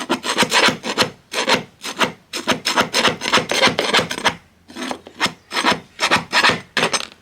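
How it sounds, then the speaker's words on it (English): A handheld scraper rasps gum off a school bus surface in quick, repeated close strokes, forming rhythmic bursts of harsh scraping with short gaps between groups. "So what the power washer doesn't get, the scraper will get."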